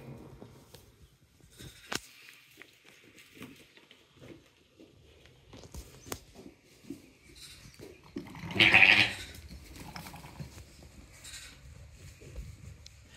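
A ewe and her lamb call to each other, with soft scattered bleats and one louder, clearer bleat in the middle, heard amid quiet shuffling and faint background noise.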